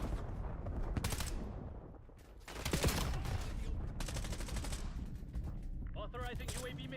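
Gunfire crackles through a Call of Duty Black Ops 7 match in bursts of rapid shots with a brief lull. Electronic game sounds and a voice come in near the end.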